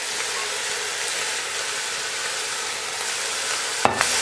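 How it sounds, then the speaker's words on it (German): Root vegetables and onion sweating in a hot pot give a steady, close sizzle and hiss, ending with a brief clank near the end. "Wurzelgemüse und die Zwiebel kommen rein. Die spitzen wir jetzt schön an."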